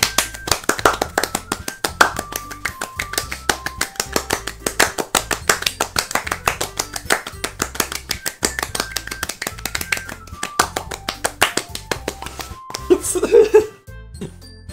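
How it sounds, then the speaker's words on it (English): Applause in the Doki Doki Literature Club video game, a crisp rhythmic run of individual claps, fairly loud and close, continuing evenly for around thirteen seconds before stopping with a brief tonal sound near the end. "I'm the first one to start applauding."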